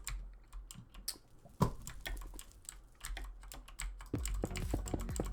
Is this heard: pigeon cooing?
no